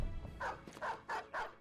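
Dogs barking in the Battle Brothers video game, four sharp barks in an even rhythm over a low, busy game background, fairly quiet overall.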